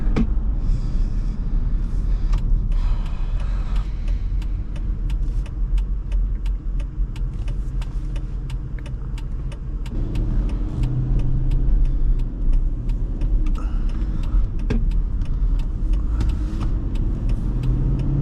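A 2008 Chrysler Aspen with the 5.7L HEMI V8 pulls away on the road. The engine drones in a steady low rumble inside the cabin and shifts in pitch partway through as it accelerates, with no talking over it.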